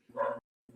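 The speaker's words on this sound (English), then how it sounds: "That's my dog, bro. I'm sorry." A pit bull gives two deep, close barks about half a second apart, loud and clear over a quiet indoor background.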